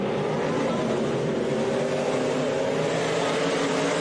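Limited modified race cars racing at Boothill Speedway, a steady dense roar of several engines droning together at a distance with no distinct pass-by, a faint commentary voice mixed underneath.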